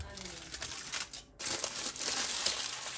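Aluminium foil sliced on a bamboo wrap dispenser, a loud, close, continuous crinkling and crackling rustle that drops out for a moment and then resumes even stronger.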